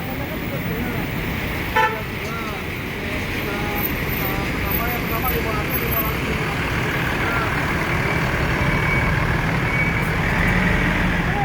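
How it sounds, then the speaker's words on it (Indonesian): A truck passes on a busy Indonesian highway during post-holiday return traffic among intercity buses, a continuous heavy road roar with a brief horn toot early on while people talk throughout. "Sekarang lagi tuh ada truk"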